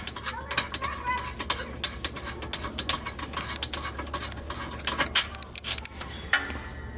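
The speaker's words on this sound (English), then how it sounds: "Okay, so I have the last bolt coming right out." Ratchet wrench backing out the last bolt of a Nissan 240SX differential under the car, with rapid metallic clicking in quick bursts over a low steady hum, close and moderately loud.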